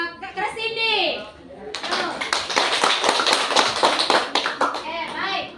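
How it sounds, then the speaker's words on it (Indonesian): A group of children claps together in a dense run of hand claps in a classroom, loud and steady for several seconds, with voices speaking before and after. "kita tepuk terima kasih untuk Kak Cindy"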